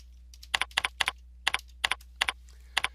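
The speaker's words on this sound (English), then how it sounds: "I'm going to type in the word statistics" Keys on a computer keyboard are tapped in a quick burst of about a dozen crisp, close clicks, typing out a single word, with a faint low hum underneath.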